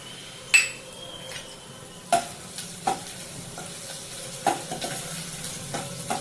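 Grated garlic and ginger frying in oil for sweet corn soup, a low steady sizzle punctuated by several sharp clacks of a utensil stirring against the pan.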